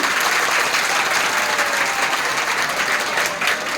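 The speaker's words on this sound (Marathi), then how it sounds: "स्वतःसाठी जोरदार टाळ्या वाजवा, स्वतःसाठी" Loud, sustained applause from a room full of students at a school farewell ceremony, a dense wash of clapping that stays steady from start to finish.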